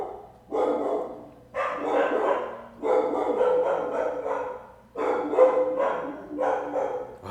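Several dogs bark in repeated loud bursts, close by, with short pauses between volleys and a low background hum.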